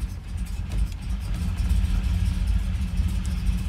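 A Ford Ranchero's engine idles in neutral with a steady low rumble and a faint tick over it, close and even throughout, with no talk.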